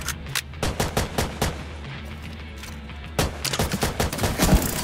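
Rapid bursts of automatic gunfire in The Division 2, loud and close, firing in repeated volleys over a low rumbling background with short gaps between the bursts.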